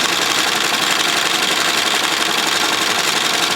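An embroidery machine stitching a design onto the flap of a carry-on suitcase, a steady, loud, fast mechanical whirring with even vibration throughout and no talk.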